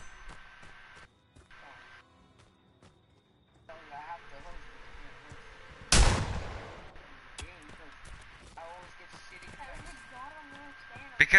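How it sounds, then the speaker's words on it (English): A single loud, close gunshot blast from a Friday the 13th video game, standing out sharply against faint game ambience while people talk over a voice chat before and after. "let me shoot you with this gun"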